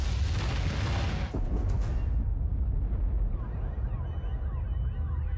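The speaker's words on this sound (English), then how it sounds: "that was a big meth lab explosion" A huge meth lab explosion in the video game South Park: The Fractured But Whole. A loud, deep blast leads into a rolling, crackling roar of fire and debris that stays heavy for several seconds before slowly easing.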